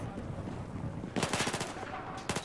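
Battlefield 4 gunfire: a rapid run of loud shots bursting in after a quiet stretch, followed by a brief pause and one more short burst at the end, with a low game background rumbling beneath.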